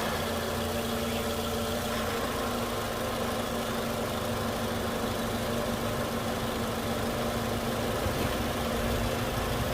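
A 2002 Toyota Camry 2.4 VVT-i four-cylinder engine idles steadily and close up, a continuous even hum with a faint knocking texture, and no one speaking.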